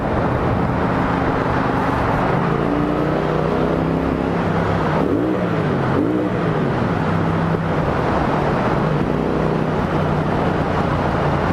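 A motorcycle engine revving loudly and continuously up close, with rising and falling pitch sweeps as the throttle is blipped, filling the whole stretch without talk.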